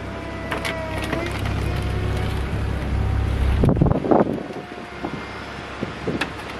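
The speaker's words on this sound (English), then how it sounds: "It's kind of windy outside" Steady wind in San Diego buffets the microphone with a low rumbling roar, joined midway by some clattering and knocking noises.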